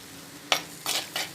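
Onions and spices with turmeric sauté in oil in a pan, with a few quick stirring scrapes and a soft sizzle at close range, and no talking.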